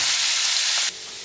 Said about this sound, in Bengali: অল্প নুন, অল্প হলুদের গুঁড়া দিয়ে ভেজে নেব।